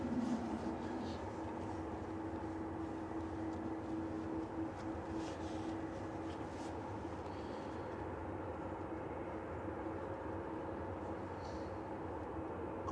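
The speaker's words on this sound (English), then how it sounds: "Couple of CF6s taxiing out on this A330-300" An Airbus A330-300 with CF6 engines taxiing at Manchester Airport, a steady low jet engine hum and rumble with a faint whine, heard from a distance and holding even throughout.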